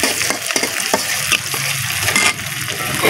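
Chili, onion and garlic fry in a pan for taro curry with eggs, a steady close sizzle with a few sharp spatula scrapes and stirring knocks throughout.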